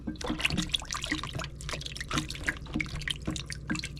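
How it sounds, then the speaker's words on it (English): Pheasant back mushrooms rinsed in a bowl of water make close splashing, dripping and trickling sounds, with steady small sloshes and drops and no talking. "I just take some mushrooms, push them in some water like this"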